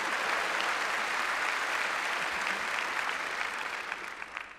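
Studio audience applause at a 1987 television dance and song show, a dense steady round of clapping that holds for several seconds before thinning out at the end.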